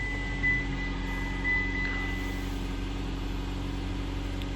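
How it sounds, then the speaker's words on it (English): A 2015 Mitsubishi Outlander Sport engine idles steadily after starting, a low, even hum held close for a few seconds with no voices. "you reach over here and push on start while you're pushing down on the brake"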